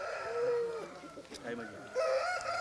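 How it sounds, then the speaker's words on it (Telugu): Native country roosters crow in drawn-out, rising calls, one near the start and another near the end, with clucking and farm noise around them and someone talking in between. "వయసున్న కోడి పుంజులండి ఇవి"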